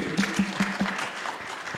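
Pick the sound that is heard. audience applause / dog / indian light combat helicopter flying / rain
audience applause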